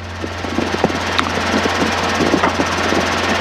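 A helicopter engine runs at five-minute takeoff power in a climb during a slope-landing lesson, a steady loud turbine drone with low rotor thump and faint clicks throughout.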